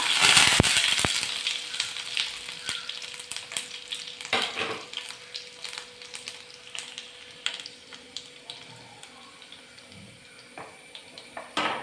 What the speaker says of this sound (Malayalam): കടുക് പൊട്ടി വരുമ്പോൾ ഒരു മൂന്നാലല്ലി വെളുത്തുള്ളി അതിന് ചേർത്ത് കൊടുക്കാം